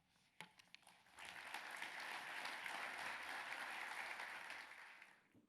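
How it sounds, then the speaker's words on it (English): Audience applause after a presentation on Western Australia's population and labour market, a few scattered claps building quickly into sustained, even clapping from a seated crowd that fades out near the end. "Please give them another round of applause."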